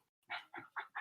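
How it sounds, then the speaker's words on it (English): A dog gives four short, soft whining yips in quick succession, close by and fairly quiet. "my dog's at my door now"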